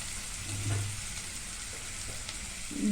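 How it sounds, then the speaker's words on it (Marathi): Coriander powder sautés in a pan for kala chicken masala, a soft, steady frying sizzle with a few light stirring scrapes, close but fairly quiet over three seconds. "अडीच चमचा धना पावडर हे परत परतून घ्यायचं"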